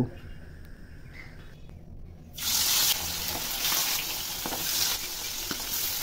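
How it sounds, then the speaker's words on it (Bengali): Tengra fish sliding into hot oil and sizzling: quieter rustling for the first two seconds, then a sudden loud, bright frying crackle that stays steady and close to the end. "তেলটা গরম করে এর মধ্যে ট্যাংরা মাছগুলো ছেড়ে দিব"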